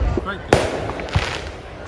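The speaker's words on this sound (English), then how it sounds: "we're actually between two fireworks displays" Fireworks display set off by a sailing club at night near a moored boat, with a sharp loud bang followed by another softer pop over outdoor ambience.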